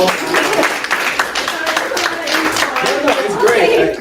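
Studio audience clapping for a guest on a health and wealth talk show, a busy patter of hands mixed with chatter and a little laughter.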